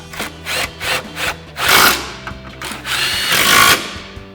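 Impact wrench driving a 13mm socket onto a car's front subframe bolts, a series of short rattling bursts followed by two longer, louder hammering runs, close up with no talking.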